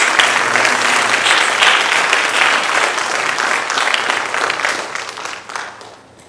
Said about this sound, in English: Let's have another round of applause for these new members.